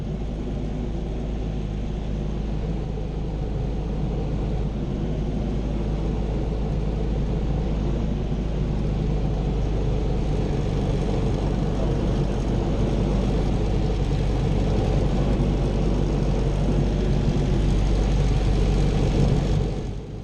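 A Miles Falcon light aircraft's engine drones steadily through a low approach to Biggin Hill, a constant heavy rumble with a slight rise near the end, heard from inside and without talk.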